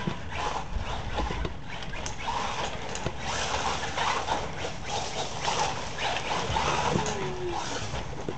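Dog barking and whimpering outdoors, with scattered yelps and whines over steady background noise, a higher whine near the end.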